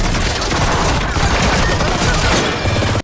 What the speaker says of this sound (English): followed by the team blindly shooting at Stonebank and his henchmen